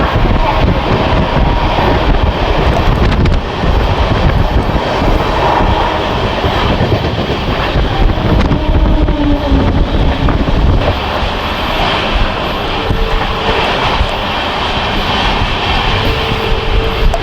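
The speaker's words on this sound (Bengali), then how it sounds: "এবার ট্রেনটা জোর স্পিড নিয়েছে" The Howrah–Kalka Netaji Express, running with LHB coaches, speeds along at high speed near Belur, a loud, continuous rumble and rattle of wheels and carriages heard up close with no break.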